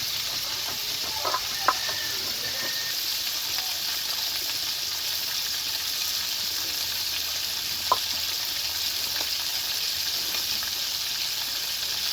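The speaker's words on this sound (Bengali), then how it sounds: "গোটা জিরে, রসুন, আদা ও শুকনো লঙ্কা ভেজে নেব।" Whole cumin, garlic, ginger and dried chillies frying in a pan for a crab curry, a steady broadband sizzle held throughout with a few soft stirring clinks, close and alone without talk.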